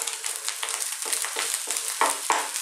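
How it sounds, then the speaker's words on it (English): An egg frying in a pan beside rice for egg fried rice, giving a steady crackling sizzle broken by louder scraping bursts as it is stirred and moved around. "Now what we want to do is cook the egg here. Keep moving it around."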